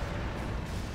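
A factory blowing up in Command & Conquer Generals Zero Hour, heard as a dense, continuous roar of explosion and artillery-like rumble filling the whole short moment, loud and steady without clear separate blasts.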